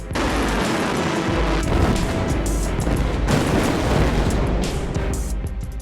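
A continuous, loud, roaring rumble with broad noisy bursts, like a large blast and its sustained aftermath, with no voices: a gas plant explosion at Ras Laffan Industrial City, Qatar.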